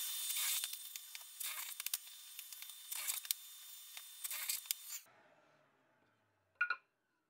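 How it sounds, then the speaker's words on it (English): A workshop dust collector roars with a steady, close hiss broken by irregular scraping bursts, then shuts off and fades away, followed by a single brief knock. "I've got a dust collector down here, which is kind of loud"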